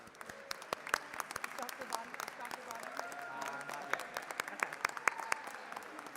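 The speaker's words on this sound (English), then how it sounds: "Let's give a big round of applause to Galveston County." Applause fills the Texas House chamber at the Capitol, a steady wash of clapping from members with a few sharper claps standing out.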